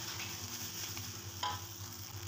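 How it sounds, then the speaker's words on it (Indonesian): Fried rice with shallots, chili and dried shrimp being stirred in a pan, a soft sizzle over a low steady hum with a few light scrapes of the spatula, faint and close with no voices. "Lalu ini kita aduk hingga semuanya tercampur rata"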